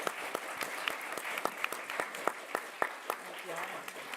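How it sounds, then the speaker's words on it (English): An audience applauds panelists at a civic engagement event, a steady patter of many claps with distinct sharp individual hits standing out, moderately distant. "Let's give our panelists, very thoughtful panelists, a big round of applause."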